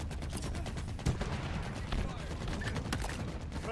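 Gunfire in Halo Infinite, with dense bursts of rapid automatic shots and scattered single cracks layered into a continuous barrage, loud and close throughout the game's battle ambience.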